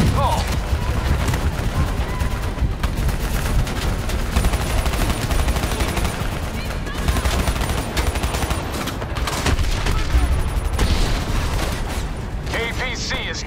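Sustained gunfire aimed at a VTOL aircraft in Call of Duty Black Ops 3, dense and loud throughout, with bursts of automatic fire and mechanical clatter under occasional radio-style voices.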